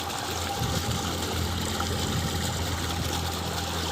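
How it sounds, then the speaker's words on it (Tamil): Water gushing steadily from a submersible 900W BLDC motor pump that has just been serviced with new coil, bearings and seals, running on three solar panels in series; a continuous, even rushing flow with no talk. "மோட்ரு தண்ணிக்குள்ளே வச்சு ஆன் பண்ணி விட்டாச்சு நல்லா அருமையாக தண்ணி பம்ப் பண்ணிக்கிட்டு இருக்குது"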